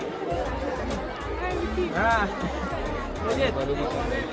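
Devotees crowd the Aai Jogeshwari temple festival in Nagothane, their voices merging into a constant close hubbub, with one louder voice briefly standing out midway and some rustling beneath.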